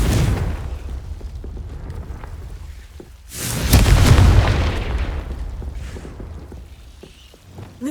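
A Confringo fire spell in Hogwarts Legacy bursts into a deep, rumbling explosion midway, swelling from a low background roar into a heavy boom that slowly fades away.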